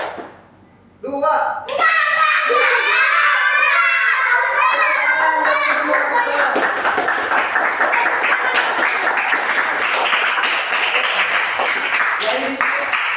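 A class of children claps in a counted pattern during a micro-teaching lesson, starting after a brief pause and settling into dense, close clapping mixed with kids' voices.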